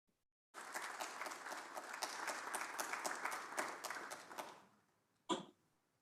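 An audience applauds a professor after his talk at a global public health conference in Africa, steady clapping from a sizeable crowd for about four seconds that fades out, followed by a single cough.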